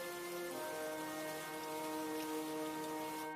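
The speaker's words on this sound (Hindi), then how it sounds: "हे भगवान, ये तो बहुत जोरदार बारिश हो रहा है।" Heavy rain in a cartoon story pours steadily throughout, a dense wash of falling water with a soft musical tone running beneath it.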